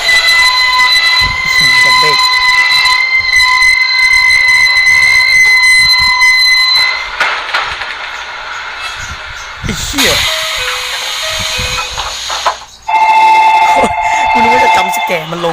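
Game audio of a train in a horror game, with sustained whistle-like tones and rumbling, mixed with music and effects, continuing loudly throughout.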